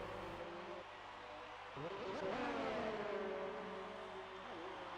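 Race car engines whine and shift gears during an overtake in a sim racing series round at Belgium, with a steady, fairly faint drone and a rising pitch sweep partway through.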